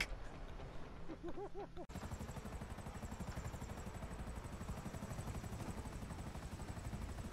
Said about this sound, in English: Put your landing gear back down.